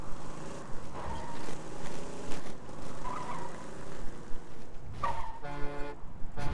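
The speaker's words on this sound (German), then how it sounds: "Hupen." A car horn honks in the video game Borderlands 2, one short toot and then a longer buzzing blast near the end, over engine rumble and game noise.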